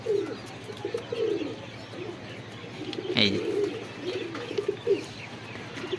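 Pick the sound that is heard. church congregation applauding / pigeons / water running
pigeons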